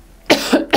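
A person coughs three times in quick succession, close and loud, each burst short and raspy with brief gaps between.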